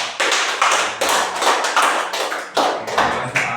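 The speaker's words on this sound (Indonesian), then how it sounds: "Mari kita beri tepuk tangan untuk Pak Anas." An audience claps to thank a speaker, Pak Anas, at an Indonesian gathering. The clapping comes close and loud in a steady rhythm of sharp bursts, with no talking over it.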